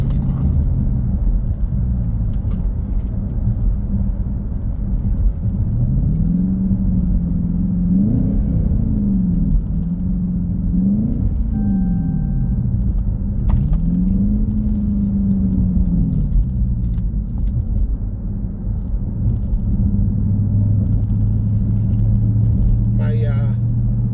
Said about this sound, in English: My car is freaking out because I sat on my battery's kill switch.